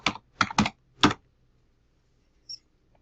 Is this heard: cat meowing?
no